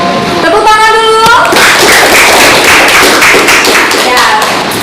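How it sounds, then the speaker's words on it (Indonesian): A group claps in a classroom, with a steady patter of many hands filling several seconds, loud and close. A voice speaks briefly at the start over the applause. "Tepuk tangan dulu."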